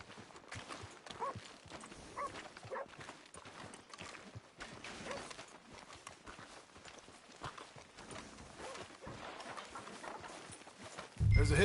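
Horse hooves clip-clopping at a walk in Red Dead Redemption 2, a faint, steady rhythm of hoof falls under ambient game noise, with a louder thump at the very end.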